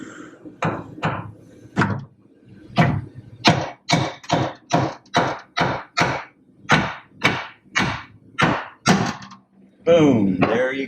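A hammer pounds a suspension bolt on a 1972 Pro Street Camaro, roughly eighteen sharp, loud metallic blows in a steady, speeding rhythm, then a brief burst of speech at the end.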